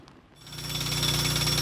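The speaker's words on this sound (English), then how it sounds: "Drills, breakers and other power tools, all donated by volunteers." Volunteer-donated drills, breakers and other power tools at work during a rescue in a ravine in Halifax: a steady, loud rattling hammer roar that builds up after a brief quieter start and continues without a break, with no talking.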